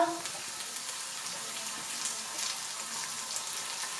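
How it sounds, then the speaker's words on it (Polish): Tomato being added to onions already frying in a pan for an omelette, heard as a steady, bright, close-up sizzle that continues from start to finish. "O, cebulka już, słuchajcie, i teraz na to kładę pomidorka."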